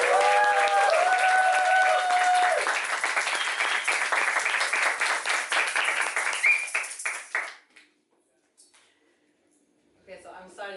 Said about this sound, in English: shall we do a round of applause and just welcome?